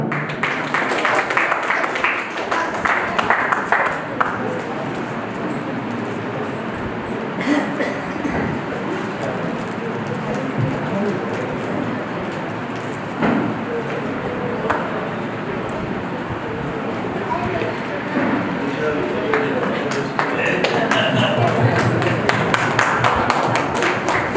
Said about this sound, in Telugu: సో అందరం ఒకసారి గట్టిగా చప్పట్లు కొడదాం.